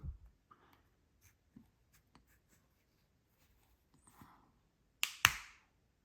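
Two halves of a Vauxhall/Opel key fob are pressed together. Faint plastic ticks and handling noises lead up to two sharp, close clicks as the case snaps shut.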